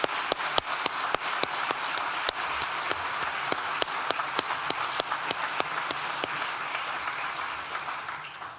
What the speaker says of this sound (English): I think he deserves a round of applause, don't you?